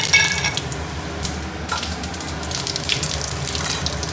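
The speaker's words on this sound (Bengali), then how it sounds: "ফোড়নটা একটু ভাজা ভাজা করে নিই" Bay leaves and whole spices sizzling in very hot oil in a kadai, a bright crackling hiss with a few sharper spits and stirring sounds, no talk.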